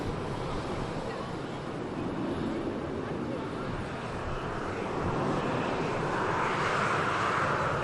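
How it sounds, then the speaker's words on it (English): An Airbus A321 jet rotating on takeoff at Manchester Airport: a continuous, distant broadband engine roar that swells slightly toward the end. "A321 rotates"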